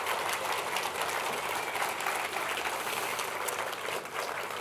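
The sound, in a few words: audience applauding at awards ceremony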